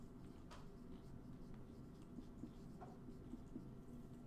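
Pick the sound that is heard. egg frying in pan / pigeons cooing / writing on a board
writing on a board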